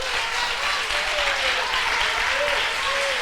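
A church congregation claps loudly and continuously, a dense sustained applause with faint cheering or voices mixed in.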